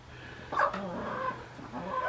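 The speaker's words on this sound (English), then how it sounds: "There's another rooster, two roosters over there." Roosters and hens in a farm barn lot give short clucks and calls at moderate distance, rising and falling over a low background hum.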